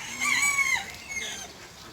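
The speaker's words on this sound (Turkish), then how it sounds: "Horoz." A rooster crows once at a zoo, a short, shrill call that rises and trails off, heard alone at moderate distance.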